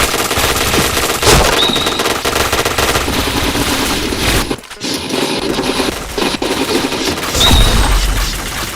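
Rapid automatic gunfire from a shooting video game, loud and dense with repeated bursts and sharp shots, a brief drop in the middle, then more heavy firing.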